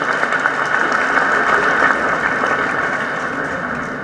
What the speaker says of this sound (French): On applaudit pour eux.